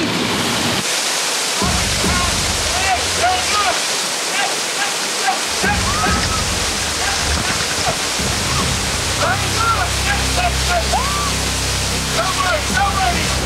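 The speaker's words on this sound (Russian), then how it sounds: "Мне придется сейчас прямо в водопад" A waterfall in Medellín, Colombia pours in a loud, dense, unbroken rush close by, with birds chirping faintly through it and low rumbling underneath.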